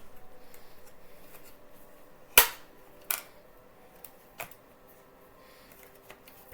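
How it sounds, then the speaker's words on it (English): Scissors snipping through stiff plastic anti-theft blister packaging give a few sharp, separate snaps and cracks, spaced about a second apart, over a quiet room. "I have a pair of scissors and it'll just be fine."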